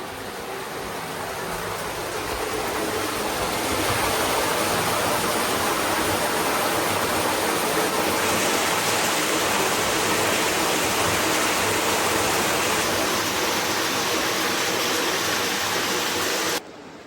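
Lost River at Natural Bridge State Park in Virginia, a cold, clear stream rushing steadily in a broad, unbroken hiss that swells slightly early on and holds loud and close throughout, with no talking.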